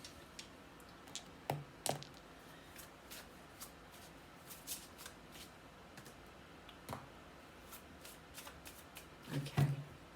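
Tarot cards being shuffled by hand in bursts of soft riffling and slapping, quiet and close, with pauses between shuffles and no talking.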